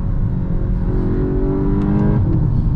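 Cabin noise inside a 2021 VW MK8 Golf GTI Clubsport under acceleration: a steady engine drone climbs in pitch with a few brief clicks near the end, loud and with no voices.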